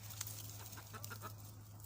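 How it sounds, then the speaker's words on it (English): Soft, scattered clucking from a few chickens, fairly faint, over a steady low hum with no talking. "You hear the chickens?"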